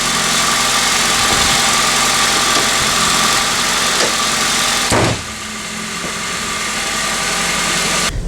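A Toyota 2ZZ-GE engine with variable valve timing runs steadily at idle, a loud continuous rumble with a brief thump midway before the tone settles slightly quieter.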